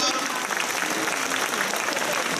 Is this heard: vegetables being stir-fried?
no